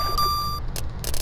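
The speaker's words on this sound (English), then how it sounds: "Once you hear some beeping, you want to kind of hold backwards to reel him in." Electronic beeping from a fish biting in the SNES bass-fishing game Bassin's Black Bass: a steady high tone early on, then short bursts of beeps over a low game hum.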